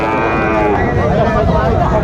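Sahiwal cattle low in a continuous drawn-out moo at a busy livestock market, close and loud over a dense background of crowd chatter.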